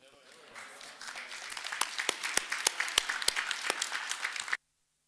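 An audience at a community leadership workshop gives a round of applause, starting as scattered claps, building to a fuller patter with a few sharp, close individual claps, then cutting off abruptly.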